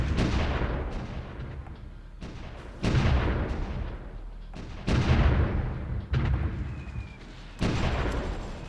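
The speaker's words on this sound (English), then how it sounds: "Oh, no, we are getting shot there. By that artillery." Artillery fire striking units in the strategy game Supreme Ruler Ultimate, a series of heavy booming impacts with rumbling decay, about half a dozen blasts at irregular intervals, loud and close.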